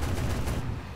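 MiG-15 cannon fire in a flight combat video game, a short rumbling burst of rapid shots lasting about a second, fairly low in level.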